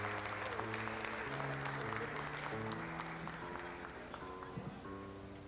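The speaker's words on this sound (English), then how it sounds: "Let's give him a nice warm round of applause" A crowd at a bandstand at the Jamaica Market gives warm, continuous applause as a musician is welcomed, with sustained instrumental notes playing beneath the clapping.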